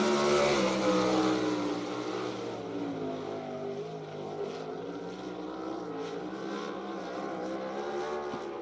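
Car number 91, a dirt track race car, roars past at BAPS Motor Speedway in York Haven, PA, its engine loud and close at first and then settling into a steady, slightly more distant drone as it laps.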